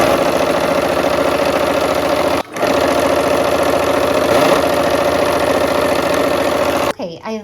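Domestic sewing machine stitching quilt pieces of half-square triangles, a steady loud mechanical whir running continuously, briefly pausing once, then stopping near the end.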